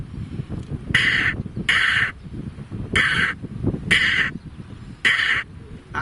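A man imitates the cawing of a house crow with five harsh, evenly spaced caws, loud and close with short gaps between them and a little background noise.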